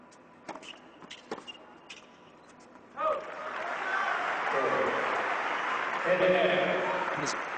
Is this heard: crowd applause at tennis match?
yes